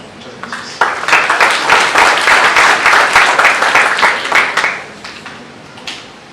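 Audience applause welcoming a moderator at a panel discussion in Jalisco, a burst of clapping that starts abruptly, holds strong for several seconds, then tapers away with a few scattered claps at the end.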